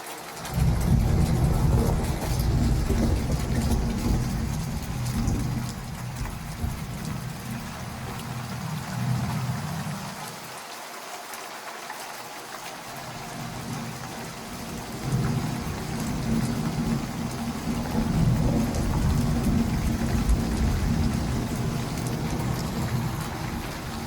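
A thunderstorm with heavy rain hissing steadily and deep thunder rumbling low, easing briefly midway before the downpour and rumble swell back to full strength.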